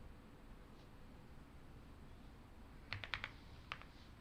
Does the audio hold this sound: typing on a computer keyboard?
yes